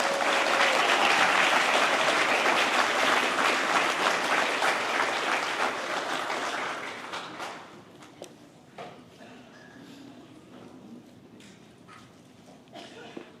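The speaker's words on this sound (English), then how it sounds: "And now let's give everybody together a big round of applause." Graduation audience applauding in a large hall, loud dense clapping for about seven seconds that thins into scattered claps and fades to quiet room noise.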